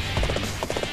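Horse hooves clatter in a quick rhythmic gallop in the video game Dynasty Warriors 8, close and steady for about a second amid battlefield noise.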